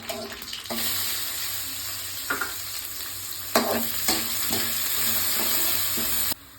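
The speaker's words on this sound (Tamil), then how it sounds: "வெங்காயம் நல்லா வதங்கிடுச்சு" Onions fry in oil with mustard seeds, cumin and urad dal for pori upma, making a steady close sizzle with occasional spoon clicks and stirs before it cuts off abruptly.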